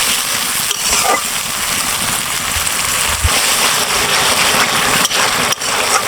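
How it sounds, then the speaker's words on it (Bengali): Spice paste for a tuna fish curry sautés in a pan with a little water, giving a steady dense sizzle throughout with faint scraping stirs. "এখন আমি সুন্দর করে মশলাটা কষিয়ে নেব"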